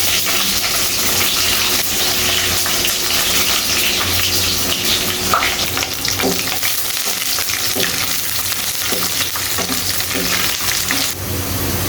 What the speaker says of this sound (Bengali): তেলটা গরম হয়ে গিয়েছে আর ফোড়নটাও ভেজে নেওয়া হয়ে গেছে। এখানে আমি দিয়ে দিচ্ছি পেঁয়াজ কুচি